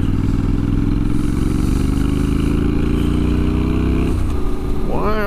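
A Honda CTX motorcycle engine drones steadily and loudly at close range while riding, a sustained throaty hum that shifts pitch slightly near the end as the revs change.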